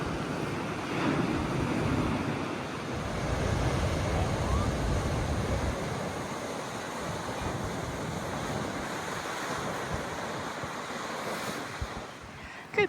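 Ocean surf on the Western Cape shore near Hermanus, a continuous wash of breaking waves mixed with wind buffeting the microphone, steady and fairly loud throughout.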